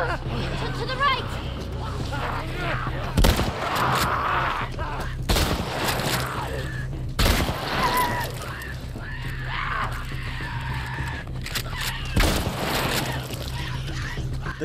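Shotgun blasts ring out in The Last of Us Part 1 remake on PS5, four or five sharp, loud reports spaced a couple of seconds apart over tense game ambience and someone talking.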